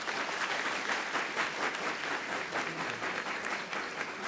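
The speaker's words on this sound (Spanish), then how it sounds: "a quien pedimos un fortísimo aplauso" Strong, sustained applause at an international law seminar for a historian speaking on femicide in Peru, many hands clapping in a dense, even wash, fairly distant and uninterrupted.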